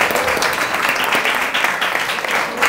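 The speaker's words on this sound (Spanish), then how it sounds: "yo sí pido un fuerte aplauso para él" Dense, steady applause from an audience at a municipal education event in honour of an activity coordinator, filling the whole stretch at even loudness.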